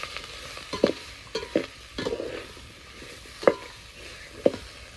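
Mixed vegetables for bhogichi bhaji stirred and fried with spices in a pan, with irregular scraping clatters of a spoon over a steady low sizzle, no talking.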